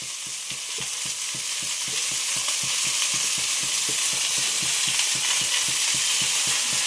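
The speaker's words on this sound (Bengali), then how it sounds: "এখন মেথি শাক রান্না হচ্ছে।" Fenugreek greens stir-fry in a pan, giving a steady, loud broadband sizzle with a quick, regular rhythm of stirring scrapes running throughout and no voices.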